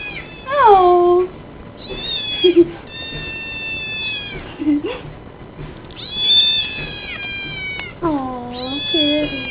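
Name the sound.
cat meowing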